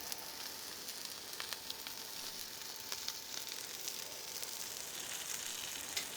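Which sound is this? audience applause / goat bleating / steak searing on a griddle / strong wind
steak searing on a griddle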